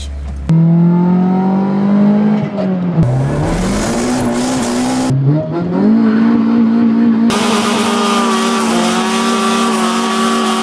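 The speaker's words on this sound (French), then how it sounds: "on va essayer mon char turbo, mettons, avec la Westgate pluggée, ce qui devrait booster 5 livres" A turbocharged Honda D16 car running at about 5 psi of boost with the wastegate plugged in accelerates hard, its engine note climbing, dipping between gears and climbing again, loud and close throughout the drive.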